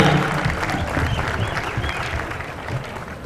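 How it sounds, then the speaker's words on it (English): A gym crowd claps for Ben Murray at the Eufaula versus Daleville high school basketball classic, dense sustained applause fading slightly as it continues, with no talk over it. "Big round of applause for Ben Murray"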